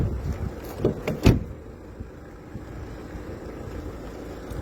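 Car doors shut on a vehicle being fog-disinfected inside, a few close thumps and clicks in quick succession, followed by a low steady hiss of spraying mist.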